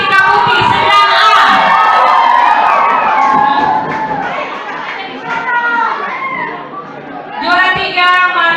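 School anniversary audience at a junior high in Indonesia erupts in loud cheering and shouting for a speech contest winner, children's voices high and excited, swelling again at the close.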